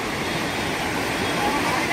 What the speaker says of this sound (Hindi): गंगा जल की लहरें कितनी तेज़ निकल रही हैं।